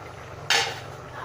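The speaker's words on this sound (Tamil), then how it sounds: "நம்ம பிளேட் எடுத்துகிட்டு பார்க்கலாம்." A plate picked up in a home kitchen while cooking a Tamil kootu of kalla paruppu and snake gourd, giving one short, bright clink of dishes that fades quickly over a steady background hum.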